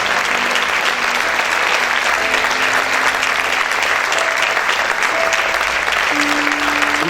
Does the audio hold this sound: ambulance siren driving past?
no